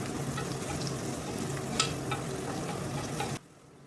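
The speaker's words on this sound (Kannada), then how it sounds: "10-15 ಸೆಕೆಂಡ್ಸ್ನ ಮಶ್ರೂಮ್ನ ಚೆನ್ನಾಗಿ ಎಣ್ಣೆಯಲ್ಲಿ ಮಾಗಾಡಿಸ್ಬಿಟ್ಟು" Thin mushroom slices frying in oil in a pan, a steady close sizzle with a few stirring scrapes, ending abruptly as the heat or recording cuts off.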